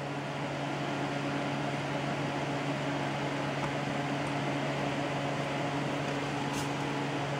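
Home Depot 9-inch twin window fan, model WDF9-2, running on its highest setting with one side on: a steady, even whoosh of moving air with a low motor hum, continuous and unchanging, with no one talking.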